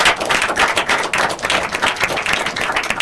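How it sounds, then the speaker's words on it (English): A debate audience at an inter-collegiate quiz and debate competition gives a support speaker a round of applause: dense, steady clapping from many hands that stays loud and even throughout. "Give her a round of applause, please."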